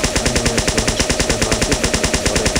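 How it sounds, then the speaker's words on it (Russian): Rapid, evenly spaced bursts of the Medic's syringe gun firing in Team Fortress 2, a loud mechanical rattle of shots repeating continuously with no talk. "Основное оружие — это шпицемет."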